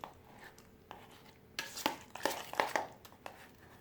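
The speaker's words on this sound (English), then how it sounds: "use the spoon to kind of smash it on the back of the" A spoon mashes cooked egg yolk filling for deviled eggs in a bowl, giving a few soft scraping and clinking strokes, quiet at first and then a denser burst of close mashing.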